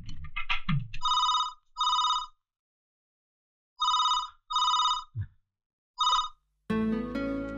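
A telephone rings in repeated double bursts of bright electronic trilling separated by silent gaps, clear and close, with a short musical sting at the end.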